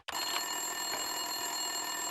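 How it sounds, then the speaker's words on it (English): Telephone bell ringing on a desk in The Punisher video game, a steady continuous electronic ring with bright sustained tones, close and loud with no talking. "Winterson's phone was ringing."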